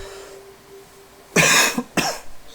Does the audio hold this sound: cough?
yes